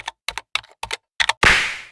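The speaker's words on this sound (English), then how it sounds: "Keyboard." Cartoon computer keyboard typing effect: five crisp, evenly spaced double key clacks, loud and close, ending in a longer bright ringing hiss that fades out.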